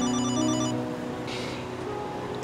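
A telephone ringtone rings loudly and steadily, a repeating electronic melody that stops partway through, followed by quiet room tone.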